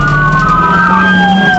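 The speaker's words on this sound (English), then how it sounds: "and the cop throws on his siren" A loud police car siren wails close by, its rising and falling tones sustained without a break, with a vehicle's engine underneath.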